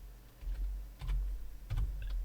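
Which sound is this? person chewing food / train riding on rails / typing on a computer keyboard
typing on a computer keyboard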